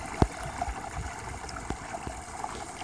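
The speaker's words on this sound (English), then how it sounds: "A small babbling brook." A small babbling brook beside a rocky hiking trail trickles and gurgles softly in a steady, faint wash, broken by a few close clicks and knocks.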